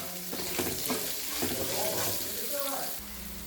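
Chopped onions sauté in a hot pan for a tapioca thoran, a soft steady sizzle with the scrape of stirring running throughout, fairly quiet and close.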